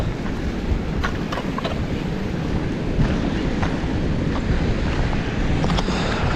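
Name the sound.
strong wind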